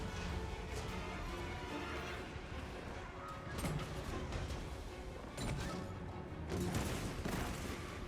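Siege bombardment with death globes in Total War: Warhammer 2, a dense continuous rumble of distant blasts and crashing impacts with louder bursts swelling every few seconds.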